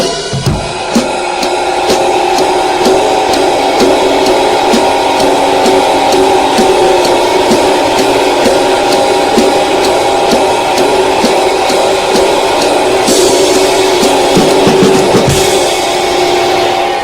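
Drumsticks strike a ride cymbal in steady time during a timekeeping lesson, an evenly spaced ringing pattern with a shimmering sustained wash underneath, loud and close throughout with no talking.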